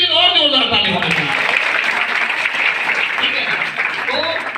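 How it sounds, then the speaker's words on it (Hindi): A workshop audience claps loudly and continuously, dense applause that holds steady throughout, with a voice speaking over the start and faint whistles near the end. "अरे इनके लिए और जोरदार ताली होना चाहिए।"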